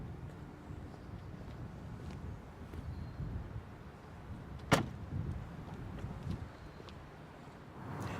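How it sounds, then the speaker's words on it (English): Trunk lid of a 2017 Aston Martin DB11 soft-closing, a quiet room-like hum broken by one sharp latch click midway followed by a brief low mechanical whir, faint overall with no talking. "The trunk lid itself also has a built-in soft closing feature."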